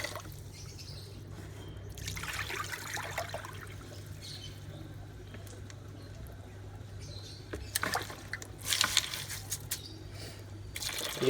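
Water running and trickling while sprouts for birds are rinsed, a faint steady flow with a low hum underneath and a few louder splashy bursts toward the end.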